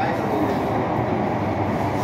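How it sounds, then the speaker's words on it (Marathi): Mumbai Metro Aqua Line train taking a turn, heard from inside as a steady, loud underground rumble and wheel roar with no break. "ट्रेन बघ कशी टर्न मारते इकडे."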